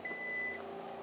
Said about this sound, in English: We have our feature up here to close the tailgate or to close and lock the car